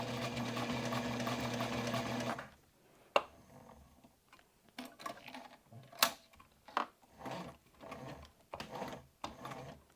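A sewing machine stitches a baby sling in a steady, close whir for a couple of seconds, then stops, leaving soft clicks and fabric handling sounds.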